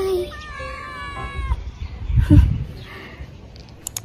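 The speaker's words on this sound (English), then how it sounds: "Today we are in the garden and with my cats." Pet cats meow in a garden: a series of drawn-out, close meows in the first second and a half, then a brief rustling thump and a few faint high chirps.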